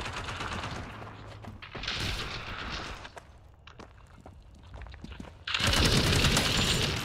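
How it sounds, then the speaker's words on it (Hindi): Machine gun and rifle fire from two sides in World War Heroes 2, sharp bursts with quieter gaps, then a loud sustained volley near the end. "ओहो, दोनों तरफ से शूटिंग।"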